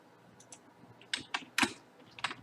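Keys clatter on a computer keyboard in a few short, uneven bursts, fairly close and with no one talking over them.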